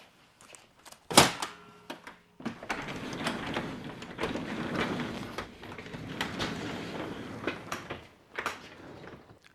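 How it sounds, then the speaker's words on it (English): A residential garage door fitted with extension springs is pushed upward by hand, giving a sharp thump near the start and then a long stretch of rattling, rolling panel and track noise that ends in a few knocks. "the first step in removing your springs is to raise the door up"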